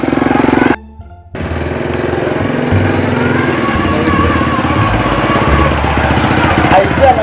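A Honda Astrea motorcycle engine runs loud and close, a rough, rattling putter that cuts out briefly near the start, then picks up again and keeps going steadily.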